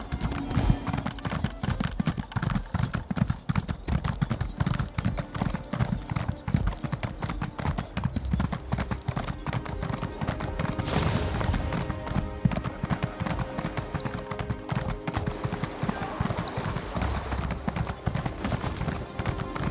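Horse hooves clip-clop steadily throughout a ride in The Elder Scrolls Online, loud and continuous with a brief whinny, layered over game music and ambience.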